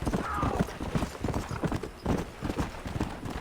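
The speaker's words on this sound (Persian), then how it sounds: "یکی رو بستم به اسب و دارم میکشنش" In Red Dead Redemption 2, horse hooves clop in a steady, loud rhythm while a man tied to the horse is dragged along the ground, with a brief whinny in the mix.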